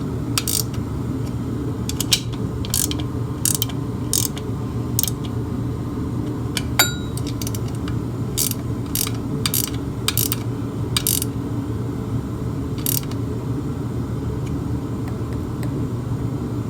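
A ratchet snugs the valve cover bolts on a 1941 Farmall A tractor engine, giving short bursts of crisp clicking at close range over a low background hum.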